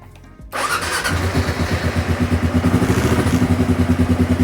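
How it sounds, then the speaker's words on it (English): A 2005 Kawasaki KLR 650 motorcycle cranks and catches, settling straight into a loud, close, steady single-cylinder idle with an even rhythmic chug and no talk. "the bike is going to start up regardless if the kickstand is down or up"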